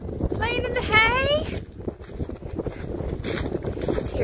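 Strong wind buffets the microphone outdoors on a snowy day, a steady roaring rush with a gusty swell, while people talk over it.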